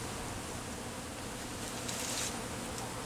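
A honeybee swarm during a hive removal, a steady, dense buzzing hum that holds at an even level throughout, close and moderately quiet, with no voices.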